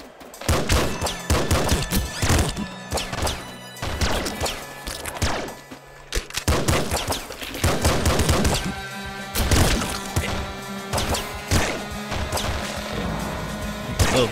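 Rapid bursts of gunfire from the top-down shooter Nuclear Throne, dense cracking shots and impacts repeating loudly throughout over game sounds, with brief pauses between volleys.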